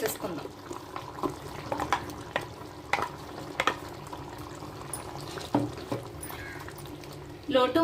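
Masala paste going into a simmering gongura chicken curry in a pot, with soft bubbling, sizzling and scattered stirring clicks, all fairly quiet and close.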